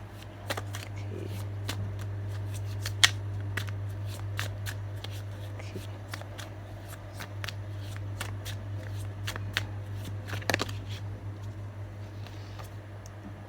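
Tarot cards shuffled by hand at close range, a long run of crisp, irregular riffling clicks over a steady low hum, with no talking.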